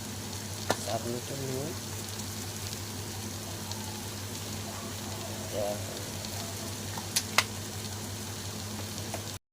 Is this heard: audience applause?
no